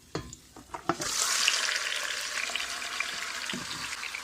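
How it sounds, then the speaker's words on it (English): A few clunks, then loud, steady sizzling as chicken for Jamaican brown stew chicken fries in a hot pan, with crackling continuing throughout. "We're gonna brown this up or fry this up for at least about 10 minutes"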